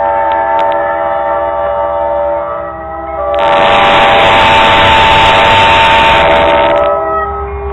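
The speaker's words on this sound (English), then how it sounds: "That's a heavy coal train." A heavy Union Pacific coal train with a leased HLCX locomotive rolls slowly past, its engine drone and horn sounding loud and close before a burst of grinding wheel and railcar noise swells in the middle and then eases off.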